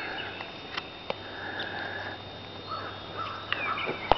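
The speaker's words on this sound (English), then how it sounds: "Early morning birds chirp and sing." Faint birds chirp sporadically in the distance over a steady quiet background, broken by a few short clicks and sniffs close by.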